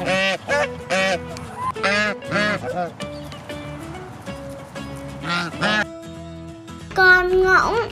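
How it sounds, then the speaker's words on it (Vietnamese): A goose gives repeated loud, nasal honks in a rhythmic run of about eight calls, close and prominent over light background music. "Con ngỗng."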